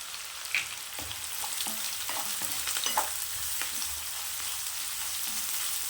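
Grated carrot sizzles and crackles in a pan with dried red chillies, with occasional scraping stirs, steady and close, no voices.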